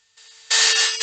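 A cordless power drill drilling into wood starts with a low whir, then jumps to a loud, harsh buzzing rattle as the clutch slips and ratchets, close to the microphone.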